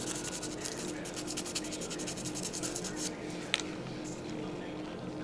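Tattoo needles are rubbed up and down to clean them, a rapid, rhythmic fine scratching that runs for about three seconds, then trails off into quieter rubbing with a small click near the end.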